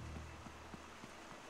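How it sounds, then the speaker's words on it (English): Steady rain pattering in the Luigi's Mansion 3 video game, a dense continuous hiss of drops with low rumbling underneath, no voices. "It looks like it's raining, though. Or it sounds like it, at least"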